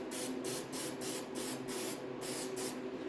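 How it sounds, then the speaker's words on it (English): Short repeated hisses of an aerosol spray adhesive can, glue for fitting Triumph TR6 seat covers, about a dozen quick bursts in a steady rhythm, close and fairly quiet. "I'm going to spray some glue at the top here."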